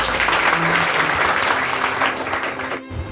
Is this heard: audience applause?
yes